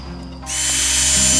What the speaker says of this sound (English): So I'm just going to do some pilot holes in all these.